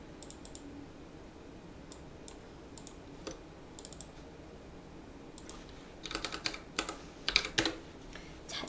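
Someone types on a computer keyboard while entering a K50 value in a graphics program. The keystrokes are quiet, close and scattered at first, then build into a quicker, louder flurry of clicks near the end.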